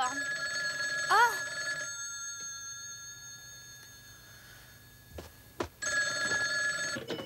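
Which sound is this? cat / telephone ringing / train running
telephone ringing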